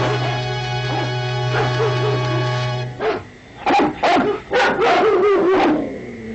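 Several dogs bark and yip in a cartoon, a series of sharp, close barks in quick bursts, with a steady musical hum underneath at the start.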